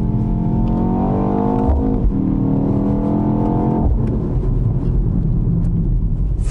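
A BMW X2's engine sound, piped through the car's own speakers, climbs steadily in pitch, drops sharply, climbs again, then falls away into a rough, loud drone.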